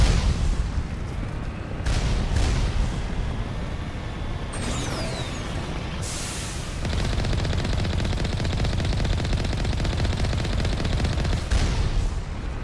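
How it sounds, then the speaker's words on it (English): Enemy gunfire in the Mass Effect video game, dense rapid bursts and heavy booms rolling continuously, loud and close with no voices. "Stop shooting at me, you cowards."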